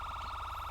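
A police car's third siren tone in the LSPDFR game gives a brief, very rapid warbling trill, loud and close, with a low rumble beneath.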